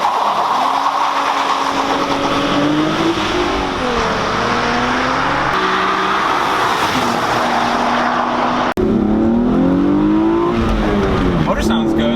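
A Chrysler car engine hums steadily from inside the cabin while driving, with tonal rises and falls as the car moves and a brief jolt partway through.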